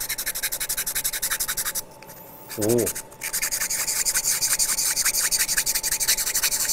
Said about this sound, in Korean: 여기서 이 부분을 다시 평평하게 평평하게 이제 갈아 줄 거예요.